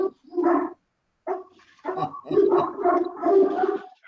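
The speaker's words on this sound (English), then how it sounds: "Sorry about the dogs." Several dogs bark at someone outside a home, loud and close, in ragged overlapping bursts with short gaps between them.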